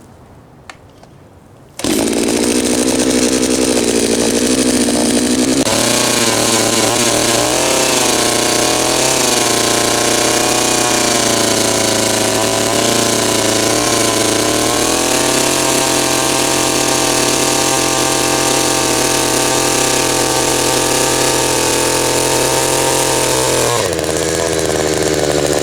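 Anbull 52CC gas post hole digger drilling into the ground with a 4-inch auger: a loud, continuous two-stroke engine roar that surges up at the start and holds steady under load for over twenty seconds, with no talking.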